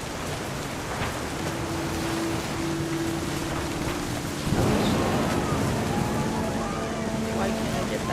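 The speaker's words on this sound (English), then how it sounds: "The thunder sounded much too close and full of angry power." Thunder rumbles inside the game What Remains of Edith Finch amid steady rain, with a deep rolling swell about halfway through layered over constant stormy noise and a low sustained tone.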